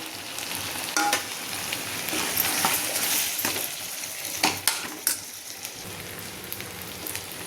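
Masala frying and being stirred in a pan for Pudukkottai tamarind curry after the vegetables have softened: a steady sizzle with scraping stirs and a few sharp utensil knocks, close and with no talk.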